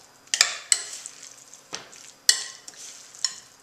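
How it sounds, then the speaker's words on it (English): Mango guacamole being stirred in a bowl: a few sharp wet scrapes and clicks of a utensil against the bowl, spaced irregularly, close and fairly quiet with no talking. "I'm going to mix this up."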